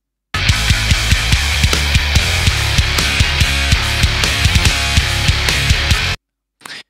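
A 7-string guitar riff with a southern twang on the flattened third: dense, distorted, loud playing with rhythmic low chugs and steady drum hits, cutting off abruptly before a brief final burst.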